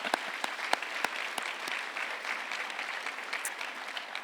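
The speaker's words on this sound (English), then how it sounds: "Let's give your parents a big round of applause." Crowd of graduates and guests at a senior awards ceremony clapping for the parents, steady dense applause with a few sharp louder claps, no voices over it.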